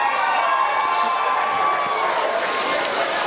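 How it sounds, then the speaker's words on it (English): Nanaimo fans cheering for the Vancouver Island Raiders at a junior football game in the Fraser Valley, a steady distant wash of crowd noise and shouts lasting throughout. "You can hear the large contingent from Nanaimo up here cheering for their hometown Raiders"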